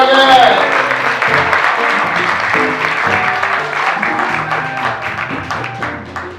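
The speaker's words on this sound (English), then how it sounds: "Come on, clap her again." Loud, steady applause from a crowd at a music summer camp closing ceremony, with clapping and a few cheers that stay strong throughout before tapering slightly at the end.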